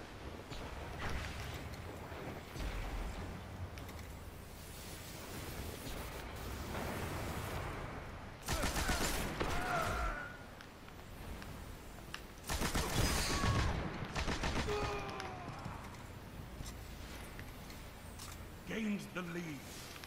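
Gunfire in a Destiny Skirmish match, MIDA rifle and sniper shots in bursts and single loud cracks over a busy game soundscape, with a player talking across much of it.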